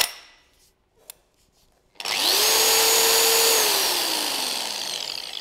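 Lake Country UDOS 51E polisher switched to sanding mode: after a few faint clicks and a pause, the motor spins up abruptly to a loud, steady whine whose pitch slowly drops.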